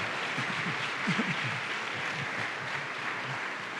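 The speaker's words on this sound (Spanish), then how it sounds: "Den un aplauso a la gloria de Dios." An audience in a church service applauds, a steady wash of clapping of moderate volume that continues throughout with a few sharper claps, while voices murmur underneath.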